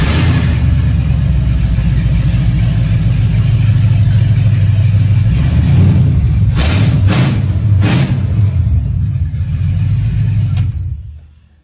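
A 1966 Chevrolet C10 pickup engine runs loud and steady with no exhaust fitted, a raw constant rumble with a brief rev burst near the end before it cuts off and falls silent.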